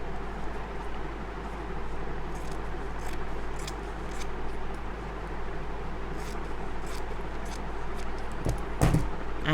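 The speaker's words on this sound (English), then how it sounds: "then we'll cut off this excess here" Scissors snip off excess fabric and elastic from a wearable turban cap band, a few faint short cuts near the end over a steady low hum, with no voices.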